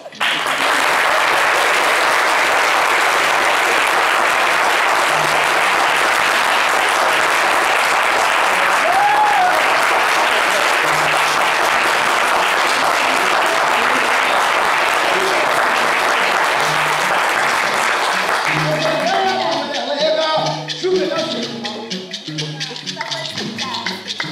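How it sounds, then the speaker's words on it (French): A studio audience applauds loudly during a midday TV show, a dense, steady roar of clapping that holds for about twenty seconds before thinning into scattered claps as music or voices come in. "Merci d'applaudir très fort"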